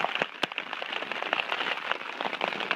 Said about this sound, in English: There's hail bouncing off my blanket.